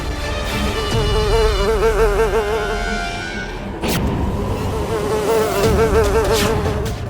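Loud, steady insect-like buzzing of a giant fly witch in a Hindi TV fantasy serial fills the whole stretch, with a warbling drone and a brief sharp break midway, then resumes without talk.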